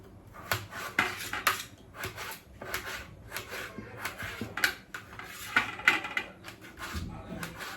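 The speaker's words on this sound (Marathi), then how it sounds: "आता मी सध्या टमाटर चिरते." Repeated knife taps on a cutting board as tomatoes are chopped, a quick irregular rhythm of light clacks running throughout at close range, with soft room noise between strokes.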